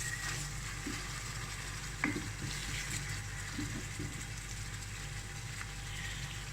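Cherry tomatoes sautéing in a pan for seafood and mushroom pasta give a steady, close sizzle and fry crackle, with a few stirring clicks and scrapes running through the whole stretch.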